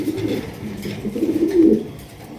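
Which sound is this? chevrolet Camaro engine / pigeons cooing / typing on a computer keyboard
pigeons cooing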